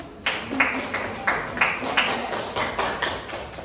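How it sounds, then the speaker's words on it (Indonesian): Classroom applause for a student, a group of schoolchildren clapping in fairly regular bursts, moderately close and steady throughout. "Tepuk tangan untuk Inam dulu"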